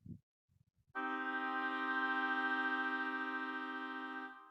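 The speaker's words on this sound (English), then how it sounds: "Now we also got good at recognizing a minor chord" A single minor chord rings out alone, clean and sustained for over three seconds before fading, after a few faint soft taps.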